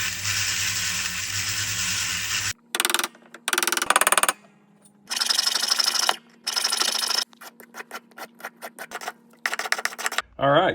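Metal file rasping excess solder off a freshly sized gold ring at a jeweler's bench, close and loud, in short bursts of rapid strokes separated by brief pauses, with a steady rub before the strokes begin.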